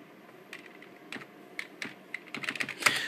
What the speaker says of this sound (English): I'll just type copy a:/lemon.com